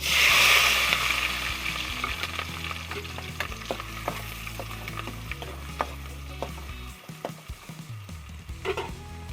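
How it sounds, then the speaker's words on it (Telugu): Thinly sliced onion and green chillies sizzle in about four teaspoons of hot oil in a kadai, a steady frying hiss with scattered scraping and clinking stir strokes, loud and close, with no talking. "ఇప్పుడు అందులోకి సన్నగా కట్ చేసుకున్న ఆనియన్, పచ్చిమిర్చి వేసుకుందాం."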